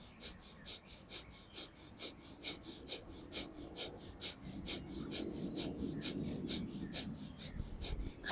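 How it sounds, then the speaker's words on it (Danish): Rapid rhythmic breath-of-fire breathing during a Kundalini yoga session: sharp pumping exhalations through the nose at a quick, even pace, about two per second, close and clear over a soft background. "Breath of fire, pumper med maven, åndedrættet ind og ud gennem næsen."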